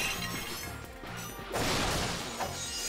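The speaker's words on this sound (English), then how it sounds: "Smashing pots." Pots are smashed in a Ratchet and Clank video game, a series of sharp shattering crashes over a rhythmic background beat, the loudest break arriving midway and a smaller one after it.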